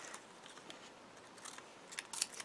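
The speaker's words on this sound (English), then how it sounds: "I might have to cut these down a little bit." Scissors trim down small card pieces for a craft project, making a few faint, close snips and crisp cuts in a quiet room with no talking.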